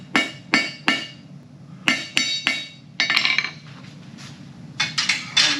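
Hot steel is hammered on an anvil to forge a taper, making sharp metallic clangs in short bursts of two or three strikes with brief pauses between, close and clear with no talking.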